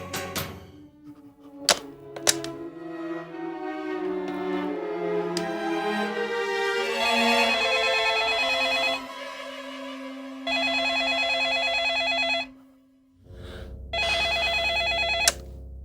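A telephone rings at midnight in a Hindi horror drama, with sustained ringing tones coming in two clear bursts separated by a short silence, after some scattered thuds and tones.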